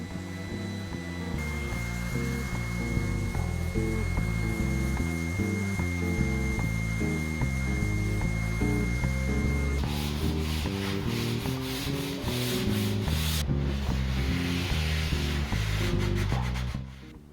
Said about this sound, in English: I resanded the entire desk one last time with 240 grit sandpaper.